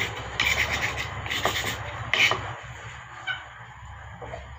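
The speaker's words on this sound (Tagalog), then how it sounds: "Tsaka natin putulin sa pamagitan ng cutter." A cutter blade saws through a hard rubber bushing in repeated rubbing, scraping strokes, close and moderately loud over a low steady background hum, with bursts of sharper scratching between quieter pauses.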